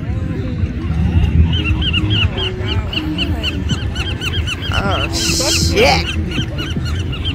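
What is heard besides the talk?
birds squawking close by on a beach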